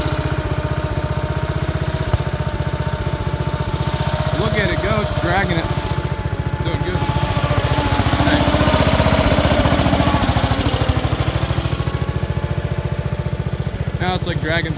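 A Wards-Gilson hydrostatic lawn tractor drags logs through grass, its small engine chugging in a fast, steady rhythmic drone up close, with people talking over it.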